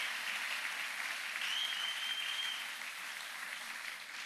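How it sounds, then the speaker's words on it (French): A church congregation at a couples' worship service in Bukavu applauds for the Lord, with steady, even clapping from a crowd that fades slightly toward the end. "Est-ce qu'on peut acclamer pour le Seigneur?"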